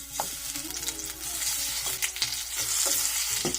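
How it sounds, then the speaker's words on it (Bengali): Spiced eggplant slices fry in hot oil in a frying pan, giving a close, crackling sizzle with sharp spatters and light clatter as the slices go in, and no one speaking. "এখন তেল গরম হওয়ার পরে আমি বেগুনগুলোকে ফ্রাই প্যানে দিয়ে দিচ্ছি"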